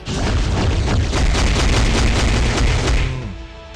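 A heavy blast from the Defenders' fourth skill in Marvel Future Fight: a dense, loud barrage of rapid booming impacts rolling on for about three seconds before fading into a brief ringing tail.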